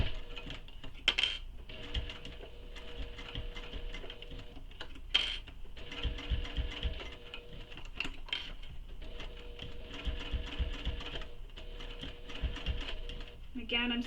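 A home sewing machine stitches through a bulky fabric commuter tote bag, whirring in rhythmic bursts with brief pauses and clicks, while a person talks over it.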